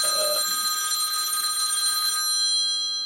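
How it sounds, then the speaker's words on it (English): A mobile phone rings nearby with a steady, bright electronic bell-like ringtone sounding continuously and loudly throughout. "Of course my phone rings."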